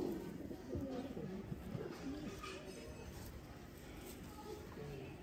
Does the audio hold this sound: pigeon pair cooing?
yes